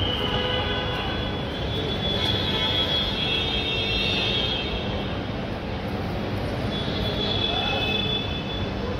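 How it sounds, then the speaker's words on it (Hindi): An airplane landing at Delhi's IGI airport produces a steady, loud jet roar that holds evenly for the whole stretch, with a bright high whine riding on top. "हवाई जहाज एरोप्लेन, एक उतर रही है, देख सकते हो ये आ रही है"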